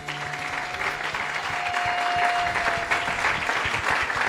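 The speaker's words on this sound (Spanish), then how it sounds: "Un fuerte aplauso." A church congregation bursts into loud, sustained applause at a worship service, clapping densely throughout while a held musical tone plays beneath.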